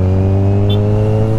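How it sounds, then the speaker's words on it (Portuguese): A Kawasaki Z1000 motorcycle engine runs with a steady, deep, rumbling drone, close and loud, holding an even pitch without revving. "não tem esse ronco incrível que essa daqui tem"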